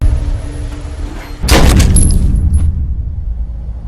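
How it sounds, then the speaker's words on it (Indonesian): A gunshot from a mafia film scene cracks suddenly and loudly over a low background hum, followed by brief ringing and debris rattle that fades out. "suara tembakan"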